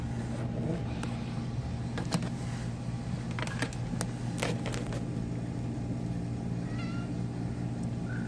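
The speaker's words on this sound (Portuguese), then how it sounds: "E o motor da lavadora," A Chinese-made twin tub washing machine motor runs with a constant humming drone and a few scattered clicks and knocks.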